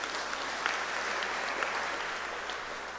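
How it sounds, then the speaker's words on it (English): Audience applause at an abbatial blessing ceremony for an abbot, steady and full throughout, close and continuous with no speech over it. "let's also give him a round of applause."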